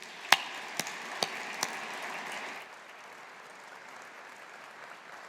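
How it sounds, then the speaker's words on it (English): Applause at a university Faculty of Science graduation ceremony, light and fairly distant, with a few sharp knocks early on before the clapping drops off to quiet room noise halfway through. "let us take this opportunity to show our appreciation and gratitude with a round of applause"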